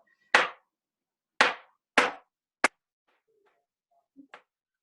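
Knife chopping soft vegan pasta dough into 1-inch pieces on a board: four sharp, close thuds spaced irregularly, followed by a couple of faint lighter taps, with no talk.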